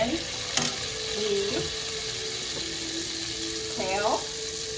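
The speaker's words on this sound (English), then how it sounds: "Okay, that's sizzling nicely." Kale and Savoy cabbage sizzle steadily in a hot frying pan with salt and pepper, a constant crackling hiss with a few scraping stirs, close up.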